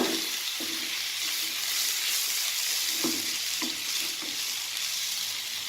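Vegetables for veg keema sizzle steadily in a pan on a stove, a constant frying hiss with a few soft stirring scrapes and knocks, close up, with no talking.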